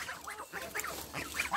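Four young female goslings give soft, nasal honking calls in quick overlapping bursts, close by, chattering continuously without pause.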